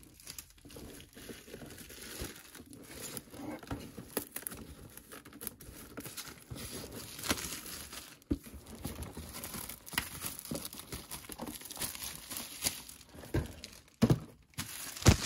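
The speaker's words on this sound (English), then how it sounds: "there's some plastic we do have to rip off" Plastic wrapping is torn and peeled off a boxed Star Wars or Marvel collectible figure, a long stretch of close crinkling, crackling and tearing with uneven bursts and no talk.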